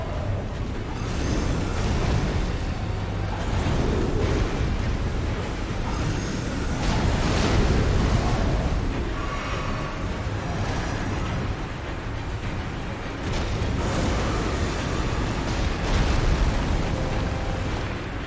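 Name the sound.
water waves in Elden Ring video game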